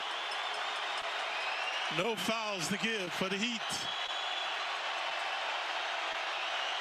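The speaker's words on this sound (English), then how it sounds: "Crowd into it now, becoming a factor." A crowd in a basketball arena during a Miami Heat game keeps up a steady, broad roar, heard under a commentator's voice.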